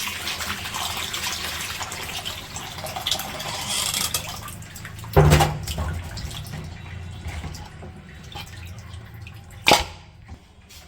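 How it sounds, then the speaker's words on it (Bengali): Raw meat being washed with water in a village kitchen, a running tap gushing and splashing up close with a couple of sharp clattering knocks. "মাংসগুলো ধুয়ে নিই।"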